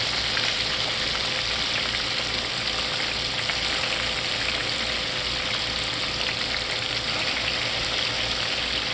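Fish strips fry in very hot oil at a seafood festival cooking station, a dense, even sizzle with fine crackling that holds steady and close throughout, with no voices over it.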